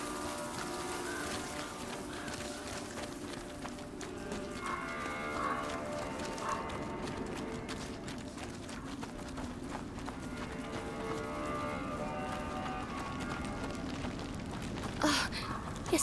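Horse in the video game A Plague Tale: Innocence, agitated animal noises over a dense, steady backdrop of livestock and ambient sound, with a sharper burst near the end.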